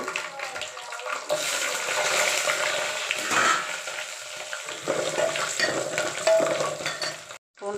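Garlic frying in oil with fenugreek, cumin and vadagam in a pan, a sizzling crackle that swells and fades with stirring, then drops out briefly near the end.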